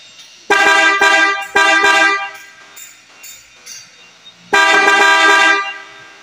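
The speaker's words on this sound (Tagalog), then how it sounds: "Testingin na lang natin na patunugin yung busina." A newly installed big horn on a Toyota Hilux Tamaraw honks loudly up close in three bursts: two short blasts, then a longer one after a brief pause, with faint mechanical sounds between.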